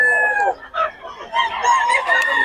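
A Boston Sweater gamefowl rooster at a Bocaue market crows in several harsh, tonal bursts, fairly close and loud, with short pauses between calls and faint background bustle.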